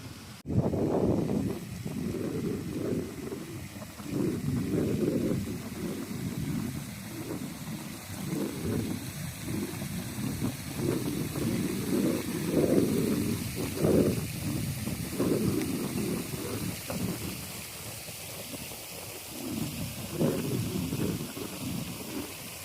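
Steady wind buffets the microphone outdoors on a nearly 100-degree day with low, gusty rumbling that rises and falls in uneven bursts for the whole stretch.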